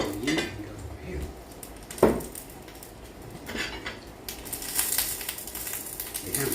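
Shrimp-stuffed güero peppers sizzle in a hot pan while pans and utensils clatter, with a sharp metallic knock partway through and the frying hiss swelling louder near the end.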